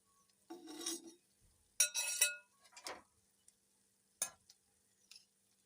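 Dried sundakkai vathal (turkey berries) dropped into hot oil, giving short bursts of crackling sizzle and stirring scrapes in a pan, close and moderately loud with quiet gaps between bursts.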